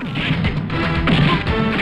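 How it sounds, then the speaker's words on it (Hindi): Glass shatters during a fight in a police station in a Hindi film, a loud crash followed by repeated smashing hits and tinkling shards across the short stretch. "एक बार फिर से शीशा टूटता है।"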